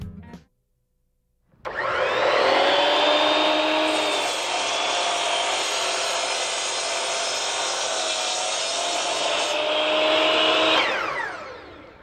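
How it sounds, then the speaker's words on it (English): A Bosch Model 4412 12-inch sliding compound miter saw starts up after a brief silence, its loud, steady whine holding for about nine seconds before winding down, with no talking. "This is the Bosch Model 4412, 12-inch sliding compound miter saw"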